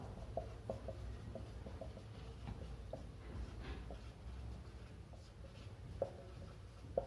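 Pen or chalk writing out the final value of an electrochemistry equation, a faint series of light scratching and tapping strokes at an uneven rhythm over a low background hum.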